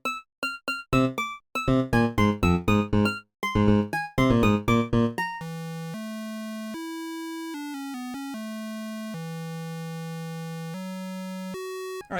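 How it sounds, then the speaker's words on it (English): Chiptune environment music from a portable Sonic the Hedgehog game: a rapid burst of bleepy square-wave notes gives way to slower, sustained electronic tones, loud and unaccompanied. "it's only out in the environments you just get this, like, really amateurish chiptune music"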